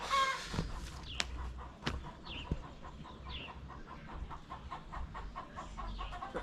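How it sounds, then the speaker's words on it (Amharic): Hens cluck and squawk at a moderate distance inside a poultry farm coop, amid steady background noise, with occasional sharp clicks and taps. "ትልልቅ ዶሮች ሲጮሁ እየሰማችኋቸው ነው።"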